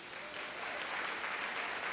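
A church congregation claps through a sermon, a dense, even wash of applause that swells slightly and carries on throughout.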